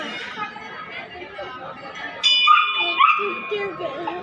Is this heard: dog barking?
yes